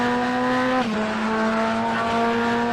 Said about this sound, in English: this is a Corvette engine right now